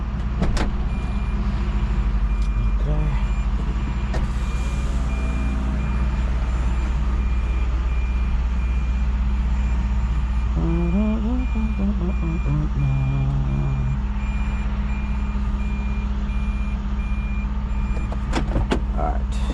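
Steady, repeating reversing beeps from a tow truck loading a locked Toyota Prius, sounding over a low idling engine rumble, with a brief rising whine mid-way and some mechanical clatter near the end.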